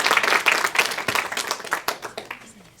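Applause from an audience welcoming a presenter at a professional learning center event, a burst of dense clapping that thins and fades over about three seconds.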